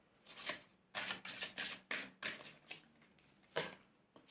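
Oracle cards being shuffled and drawn in a series of crisp riffling and flicking bursts, about eight distinct card sounds spaced unevenly, close and fairly quiet, with no talking.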